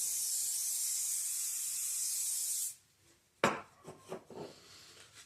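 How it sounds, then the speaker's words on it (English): A can sprays accelerator onto a wooden guitar neck in a steady, loud hiss lasting a few seconds. The spray stops, then a sharp clatter and several lighter knocks follow. "I'm going to spray this with some accelerator"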